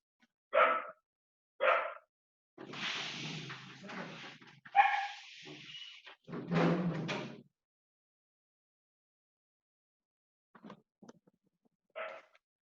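A dog barks in the background of a home, giving a few sharp separate barks, then a longer run of yelping and whining, and finally some faint, sparse yips after a quiet pause.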